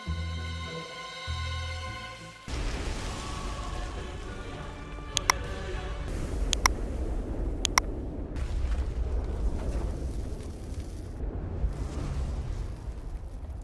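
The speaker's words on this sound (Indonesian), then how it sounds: "menyalakan semua kembang api yang ada di pabrik" After a brief musical opening, a dense roar of fireworks exploding in a film takes over, with sharp cracks and pops bursting out repeatedly over a continuous rumbling blast.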